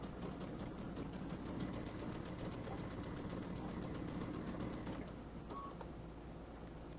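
A sewing machine runs steadily and close, stitching a quarter-inch quilting seam with a fast, even needle patter throughout, no voices over it.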